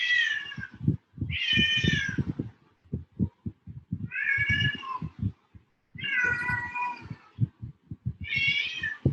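A house cat meows repeatedly, five loud drawn-out calls close by, with rhythmic low thumping between them and no talk.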